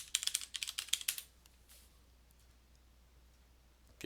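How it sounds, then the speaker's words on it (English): A password is typed on a computer keyboard as a quick, close burst of about a dozen crisp key clicks, followed by near silence and one final click. "I'll enter that silly password I entered earlier"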